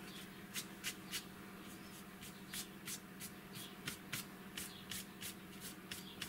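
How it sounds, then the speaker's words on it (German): Pressed real flower petals being wiped off paper by hand, giving a series of soft, quick brushing swipes in an irregular rhythm, close and quiet, with no speech. "Jetzt werden die Blüten hier einfach so abgewischt."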